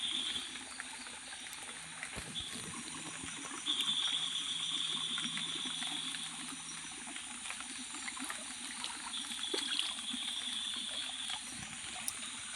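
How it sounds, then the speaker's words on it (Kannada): Water flowing strongly through a channel on a farm plantation after a pump is switched on: a faint, steady rushing and trickling wash that continues without a break. "ಆ್ಯಂಡ್ ನೀರು ತುಂಬ ಜಾಸ್ತಿ ಹರಿತಾ ಇತ್ತಲ್ವ"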